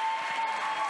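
Brief applause from an audience at a church musical gathering, a continuous wash of clapping with a steady tone held underneath, lasting under a second.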